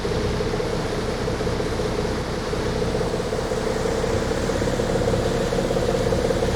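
A boat engine in the VR Regatta sailing game runs steadily, a continuous loud droning hum with a constant mid-pitched tone that never lets up, with no speech over it.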